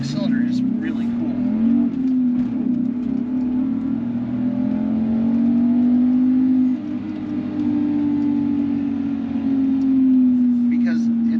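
Subaru flat-six engine in a car revving up and holding, a strong droning tone that rises and falls gently over several seconds and dips briefly midway, with a voice talking over it.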